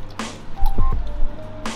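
Water squishes and drips close by as a roller rack is pulled from a water-filled film processing tank, with soft wet splashes and a couple of faint clanks.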